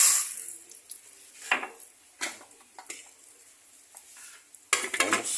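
Dry corn kernels poured into a pot with oil, salt and margarine for popcorn, giving a few scattered clinks and rattles against the metal pot, with a louder clatter near the end.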